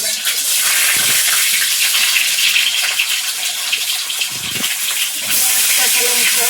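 Loud, dense sizzle of panch phoron spices hitting hot oil in a kadai for banana curry, a continuous bright crackling hiss close to the listener.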